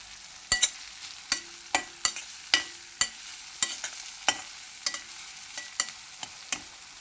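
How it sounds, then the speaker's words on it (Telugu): Onions frying with salt in a pan, sharp intermittent scraping stirs over a faint sizzle, close and without any talking. "కటికి సరిపడా ఉప్పు వేసుకున్నామంటే ఉల్లిపాయలు త్వరగా వేగుతుంది"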